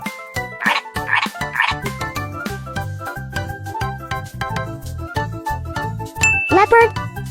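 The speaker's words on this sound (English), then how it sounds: "Frog." Frogs croak in a steady pulsing chorus, close and continuous, with bright ringing, tinkling tones mixed in over the top.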